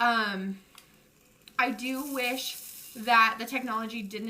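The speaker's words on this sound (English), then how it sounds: "you can hear it sizzling because it's like freaking out right now." Agave vapor hair straightener hissing and sizzling against hair, a soft steady crackle running beneath a woman's close, clear talk.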